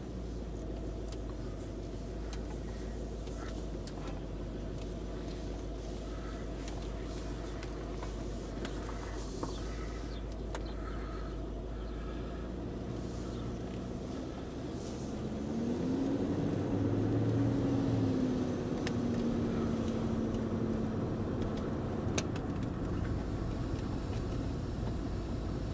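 A Range Rover L322 engine idles low and steady, then the car pulls up gently and settles to a stop during electronic parking brake bedding, a rising hum swelling midway and easing off.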